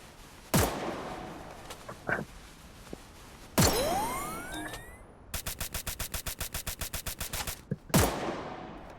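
Gunfire in the video game Free Fire: a few loud single shots, then a rapid burst of about fifteen evenly spaced automatic rounds, followed by another sharp shot, all close and without speech.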